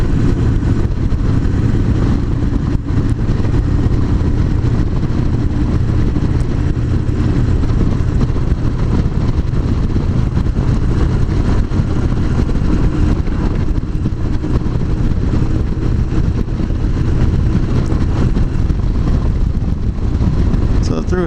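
A Victory Cross Country motorcycle rumbles continuously while being ridden, the engine drone blended with heavy wind buffeting, loud and close throughout with no letup.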